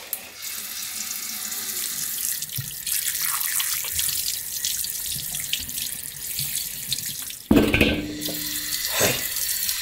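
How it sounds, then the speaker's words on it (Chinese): Pig's head being washed under a running tap, a steady close hiss and splash of flowing water that briefly cuts off near the end and then resumes with a few drips and splashes. "我们给它洗干净哈，彻底洗干净"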